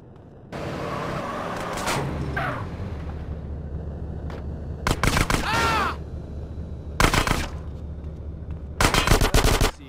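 Gunfire in the video game GTA San Andreas comes as loud, close bursts of rapid shots in several rounds, with a vehicle engine rumbling steadily underneath.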